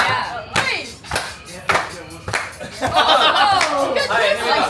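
A small group claps in time during a beer tasting challenge on a cruise ship, sharp claps spaced about half a second apart, then a stretch of chatter and laughter mixing with the beat.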